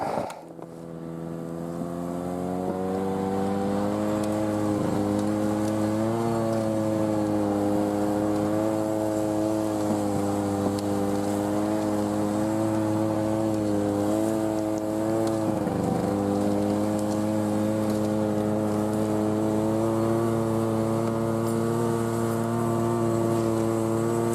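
A vehicle driving over snow on the way to fishing in early February, its engine a steady loud drone that rises and dips slightly in pitch throughout, near and continuous with no voices.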